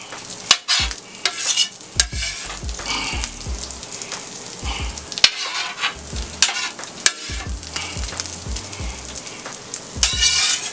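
Sausage and onion fry on a flat-top griddle for a hash brown omelette, a steady sizzle broken by sharp clanks and scrapes of a metal spatula stirring and turning the food.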